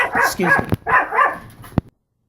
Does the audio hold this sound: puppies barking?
yes